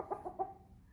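A young American Bresse cockerel gives three short clucking calls in quick succession, fairly faint and close with no other sounds.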